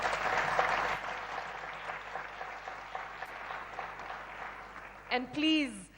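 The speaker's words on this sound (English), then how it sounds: "Please give him a round of applause." A summit audience applauds steadily, loud at first and then fading, and a voice begins speaking near the end as the clapping dies away.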